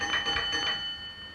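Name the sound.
railway signal box bell beats, LMS telegraph bell code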